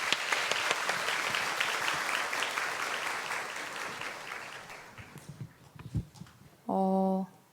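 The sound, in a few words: audience applause at a book concert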